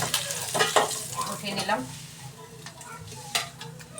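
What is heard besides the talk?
shing fish frying in a pan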